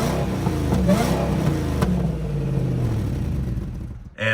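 A damaged Ford GT's engine runs steadily just after starting, a loud close rumble with a brief rise in revs, then dropping off near the end.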